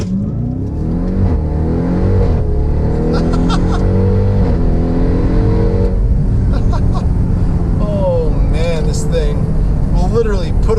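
A 2018 Jeep Grand Cherokee Trackhawk engine revving and accelerating in sport modes, loud rising and falling engine tones heard from inside the vehicle, with someone talking over it.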